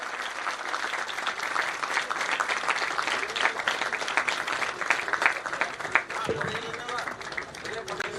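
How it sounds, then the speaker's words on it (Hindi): Sustained audience applause fills a college alumni meet during a Saraswati Puja celebration, dense steady clapping from a crowd throughout, with some voices mixed in. "जोरदार तालियों के साथ स्वागत करें।"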